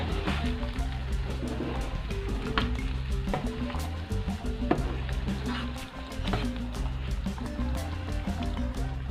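Whole spices frying in a pan for khara masala gosht mutton stew, a busy sizzle and crackle with repeated spoon strokes and scrapes as they are stirred, close and continuous.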